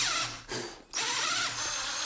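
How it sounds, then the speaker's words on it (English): A 12mm drill bit bores mortise corners freehand into a wooden workbench base, a close, high whirring drill sound broken by two short pauses. "Using one of my 90-degree angles to drill the corners of the mortise by freehand"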